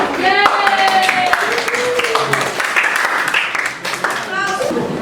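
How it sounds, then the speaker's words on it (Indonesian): Students in a mathematics classroom clap for a student group after its answer. The clapping is brisk and fairly close, scattered across the room, with children's and adults' voices talking over it throughout. "Tepuk tangan dulu ya."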